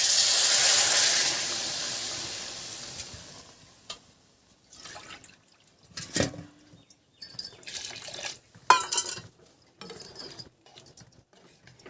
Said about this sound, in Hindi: देखिए पानी डाल रहे हैं,